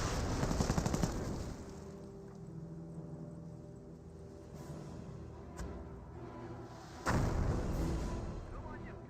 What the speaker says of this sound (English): That is a mortar half-track